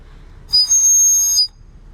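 A shrill, steady duck-shaped toy whistle blows once for about a second, bright and close, with quiet room noise before and after.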